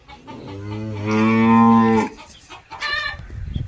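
A cow in a cowshed gives one long, loud, close moo lasting over a second, followed by quieter farmyard sounds including a brief call that may come from a hen nearby.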